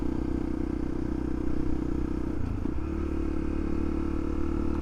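Honda CRF 250L single-cylinder motorcycle riding along green lanes, a steady loud engine drone with a brief dip and shift in pitch midway, close to the rider, no talking.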